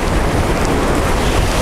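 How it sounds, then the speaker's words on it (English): Wind sweeps across Anse Soleil beach on Mahé, Seychelles, as a loud, constant broadband roar buffeting the microphone, with possible surf mixed in and no voices. "It is quite windy"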